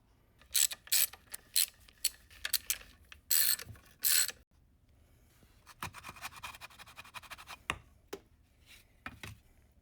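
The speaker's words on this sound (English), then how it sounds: "9/16 to get these 4 bolts off." Ratchet wrench with a 9/16 socket clicking as it backs out the four bolts on a 1948 Willys CJ2A Spicer 18 transfer case, several close bursts of rapid ratcheting followed by quieter, scattered clicks and clanks.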